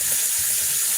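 Carrots set to soak in cold water, a steady hiss of running water filling a container, close and continuous with no talking.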